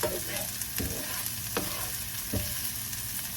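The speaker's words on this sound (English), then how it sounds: "and then stir fry it" Food sizzles steadily in a hot pan as it is stirred, with a few sharp scrapes of a utensil against the metal.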